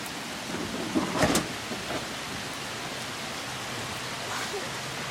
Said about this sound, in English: Right now, it is pouring down rain in Bellingham, as usual